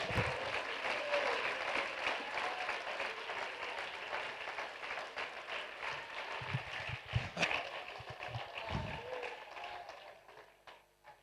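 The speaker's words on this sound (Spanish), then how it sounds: "De un aplauso a Jesucristo." A church congregation claps together in sustained applause, a busy crackle of many hands that gradually thins and fades toward the end.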